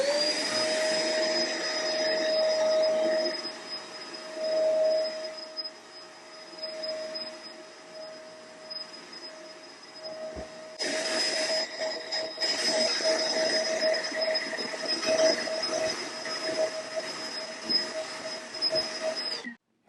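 Shark LA455 Rotator Pet Pro upright vacuum running steadily on old carpet, a loud continuous motor whine with a shift in tone partway through as it is pushed across the pile, no talking.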